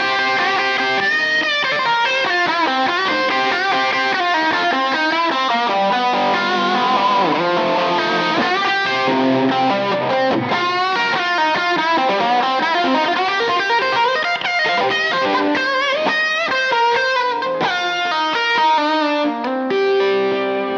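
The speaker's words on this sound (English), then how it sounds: "Nice snappy sound, and straight away you can really hear the clarity in this guitar." A Gibson Les Paul electric guitar plays with heavy distortion, a dense, continuous run of driven notes and chords at steady high volume with no talking.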